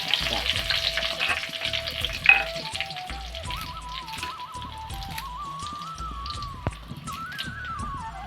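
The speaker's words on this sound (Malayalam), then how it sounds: "കടുക് പൊട്ടുന്നുണ്ട്" Mustard seeds splutter in hot oil with urad dal and dried red chillies, giving a continuous close crackling sizzle. A thin steady whistle-like tone wavers above it, with no talking.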